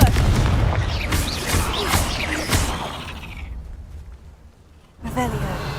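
Confringo explosive spell cast in Hogwarts Legacy: a run of loud, booming blasts with whooshing bursts, then a fading lull before another sharp blast, with a voice talking over the action.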